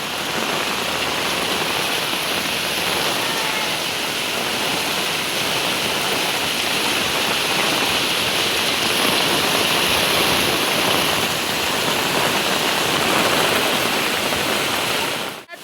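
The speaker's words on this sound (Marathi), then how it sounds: "इकडं वाढतच चाललंय पाणी आणि इकडे वॉटरफॉल पण आहे" Heavy monsoon rainwater pours down like a waterfall at a residential building in Nalasopara, a loud, steady, unbroken roar of rushing and splashing water that continues without pause or voices until it cuts off at the end.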